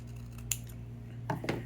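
Scissors snip paper during card making: one sharp cut, then a pause and two more quick snips close together, close-up and fairly quiet, with no talking.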